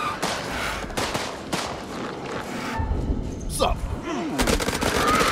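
Rapid gunshots and machine-gun bursts in the horror game House of Ashes, loud repeated volleys with players talking and reacting over the shooting.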